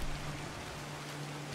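Rain falls steadily in the Gord video game, a soft, even hiss of moderate level with a faint low hum beneath, unbroken for the whole short stretch.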